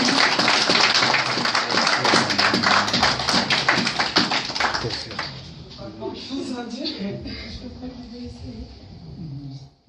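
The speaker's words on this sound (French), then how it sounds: "Vos applaudissements, évidemment." Dense audience applause fills a French show's hall, loud and sustained for several seconds before thinning into scattered claps as a voice begins talking.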